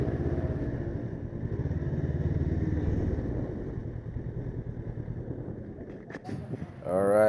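A Honda NX500 motorcycle cruising at a demo day, its steady engine rumble mixed with wind noise for several seconds, then a brief clatter and a rising rev near the end.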